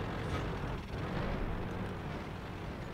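Rapid tank cannon fire in the World of Tanks video game, heard as a dense, loud, continuous rumble of blasts with no clear gaps between shots.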